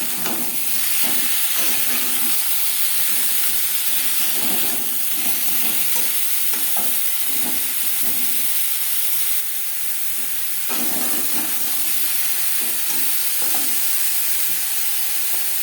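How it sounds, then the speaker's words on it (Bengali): Mango pieces fry lightly in a pan for Bengali mango chutney under a continuous loud sizzle, with repeated stirring scrapes and knocks scattered throughout and no voices. "আম হালকা করে ভেজে নেব"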